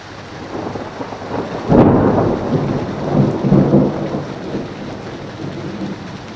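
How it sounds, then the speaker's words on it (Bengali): A heavy downpour hisses steadily while a loud thunder crack breaks in and rolls into a long, fading rumble, then a second swell of thunder sounds under the continuing rain, with no voices. "বৃষ্টি কিছুটা থেমে গেছে, বাট এখনও মেঘ ডাকছে বাইরে"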